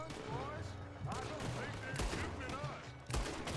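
Rapid gunfire from the Wild West video game Red Dead Redemption, with repeated shots crackling over a dense, steady bed of game sound and a voice now and then.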